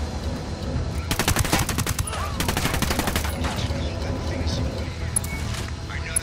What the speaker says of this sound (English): Those Sicarios are shooting the hell out of this emitter.